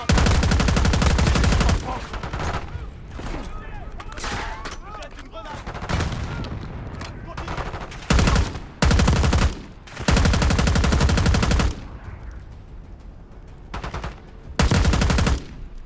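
Automatic gunfire in the Call of Duty Black Ops 6 campaign, loud rapid bursts of shots in several separate volleys, with someone speaking in the gaps.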